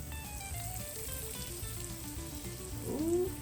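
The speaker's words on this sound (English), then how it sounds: "That's all of it frying up." Pieces of freshly caught fish fry in hot oil, a steady soft sizzle and bubbling crackle that runs throughout, with a brief whistling tone near the end.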